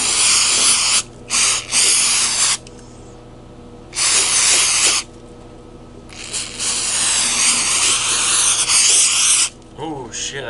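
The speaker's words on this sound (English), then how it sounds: "I'm gonna spray it, let it sit for a while, and then come back and clean it" Aerosol cleaner sprayed onto a 2000 GMC 5.3 throttle body: several loud, close hissing bursts of varying length separated by short pauses, with a longer continuous spray near the end.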